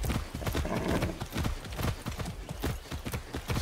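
Steady clip-clop of horse hooves in the video game Far Cry 6, a quick even rhythm of hard knocks close by, carrying on without pause.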